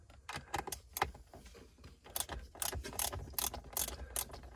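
A tool loosens a fastening during electrical work, giving a run of rapid ratcheting clicks and metallic mechanism noises in irregular bursts, fairly close and moderately loud.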